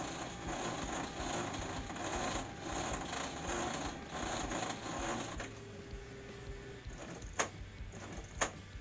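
Inkjet printer running its head-cleaning cycle, a loud steady mechanical whir and grinding hum that shifts pitch partway through, followed by a couple of sharp clicks near the end, heard alone.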